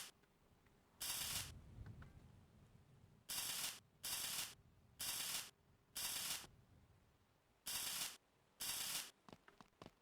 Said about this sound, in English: let's get that welded up